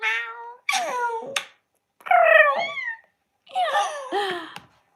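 A person's voice imitates a cat, making three drawn-out, pitch-bending meows with short gaps between them, close and fairly loud.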